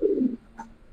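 A single low pigeon coo sounds close at the start, followed by a brief faint chirp, with no talk.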